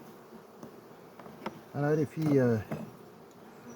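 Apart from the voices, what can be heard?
honeybees buzzing at the hive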